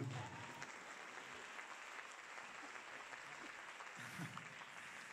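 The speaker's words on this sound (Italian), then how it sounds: "potete anche applaudire un po' di più" Audience applause at a concert fills the whole stretch as a steady, even wash of clapping, moderately distant and fairly quiet, with no voices standing out.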